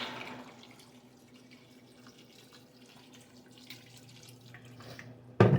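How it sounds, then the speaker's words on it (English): Water runs steadily into a cooking pot holding frozen butternut squash for crab chowder, a soft continuous tap-like rush over low kitchen hum, ending with a sudden louder clunk. "I'm just going to cover it with water now"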